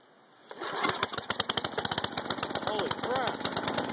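An Agway snow blower engine cold-starts on full choke, sputtering into a rapid, uneven string of loud pops and bangs that settle into a rough, rattling run close by.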